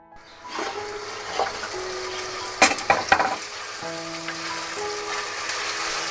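Onions, garlic and mutton frying in hot oil in a pot, a continuous close sizzle with a few louder bursts of crackling midway and faint clinks, no voices.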